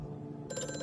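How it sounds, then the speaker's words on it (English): Ringing telephone in the horror video game Amnesia: A Machine for Pigs, a steady bell tone that starts partway through and continues to the end, alone with no talk over it. "Oh, the phone's ringing."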